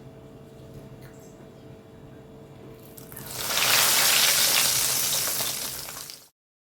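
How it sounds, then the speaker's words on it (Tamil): Bread chicken samosa dropped into hot oil, a quiet background giving way to a loud, bright hiss of frying that swells and holds for a few seconds before cutting off. "இதை நான் இப்போது வறுத்து காட்டுறேன்."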